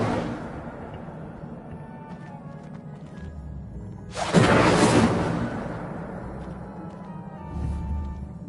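The Incendio fire spell is cast in Hogwarts Legacy, a sudden loud fiery whoosh that bursts out after a quiet stretch of low ambience and then fades into a rumbling tail.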